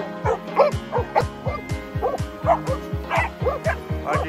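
Rapid, steady yipping barks from a dog nearby on a farm, repeating about twice a second with little pause, loud and alone.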